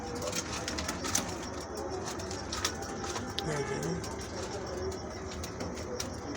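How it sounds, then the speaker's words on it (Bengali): Pet pigeons in a home loft give soft, low cooing against faint background noise, with someone speaking nearby. "এইগুলো আমার ঘরের কবুতরই"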